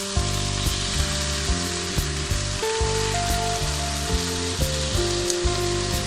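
Chicken chowmein noodles frying with vegetables in a pan, street-food style: a dense, continuous sizzle, close and fairly loud, under a steady musical backing, with no talking.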